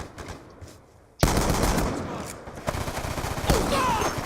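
Rapid automatic gunfire bursts out in Call of Duty: Black Ops II, dense, loud shots crackling over game sounds after a quieter opening moment, with heavier impacts near the end.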